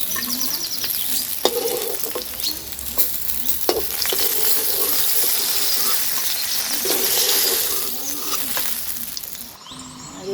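Koi fish fry in mustard oil in a pan, giving a loud, steady, crackling sizzle with occasional stirring clicks and no talking.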